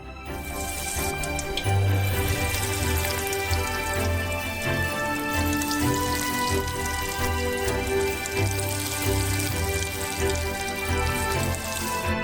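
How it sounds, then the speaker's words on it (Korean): Croquettes of purée deep-frying in a pot filled with two bottles of oil on a stove, giving a steady, dense sizzle and crackle that runs continuously at close range with no talk. "그리고 이 퓨레들을 튀겨주세요."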